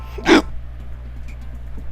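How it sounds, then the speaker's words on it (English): A single sharp hiccup bursts out near the start, close and loud, followed by quiet room tone with a faint hum. "Sorry, hiccups."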